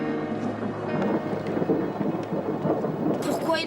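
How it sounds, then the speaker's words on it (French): Steady rain pours down with a low rumble of thunder beneath it, a dense wash of patter filling the whole stretch without pause. "Pourquoi il faut qu'il pleuve le jour où on arrive?"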